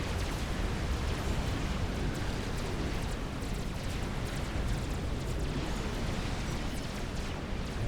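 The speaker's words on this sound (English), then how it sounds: "That artillery emplacement for Corwin was completed and begins firing on Team 1's base." Artillery emplacement shelling an enemy base in the strategy game Forged Alliance, a dense, continuous rumble of overlapping distant blasts and crackle, steady and loud throughout with no voices.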